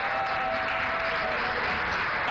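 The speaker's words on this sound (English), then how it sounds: "I think I need a better round of applause" Applause from an audience at a live broadcast storytelling event in Ghana, a steady dense wash of clapping held at an even level for a couple of seconds, with a faint tonal whistle briefly running underneath.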